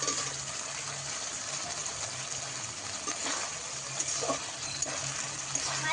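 Pangas fish pieces frying in hot oil in a pan for a Bengali fish curry, a steady close crackling sizzle throughout with faint bubbling and occasional sharper pops.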